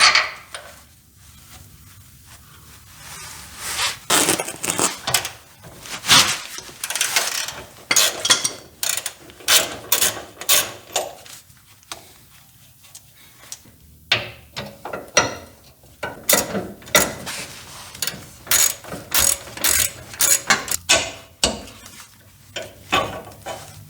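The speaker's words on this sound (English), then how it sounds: "gives me way more room to loosen this bolt" A ratchet loosening a bolt on the steering rack of a third-generation Toyota 4Runner, irregular runs of sharp metallic clicking bursts with pauses between, close and loud, with no talk.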